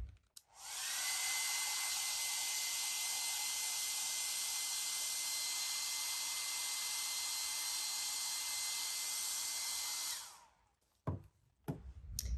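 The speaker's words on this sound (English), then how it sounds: "And then we take a dryer." A hair dryer blows hot air to dry Paverpol fabric hardener, a loud steady whoosh running for about ten seconds, then switching off and leaving a few handling knocks.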